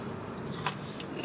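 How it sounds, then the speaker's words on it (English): One quick, close crunch of teeth biting into a crispy fried chicken wing, short and sharp over a faint background hum. "Y'all hear that crunch?"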